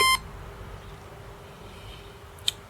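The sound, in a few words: electronic device beep at power on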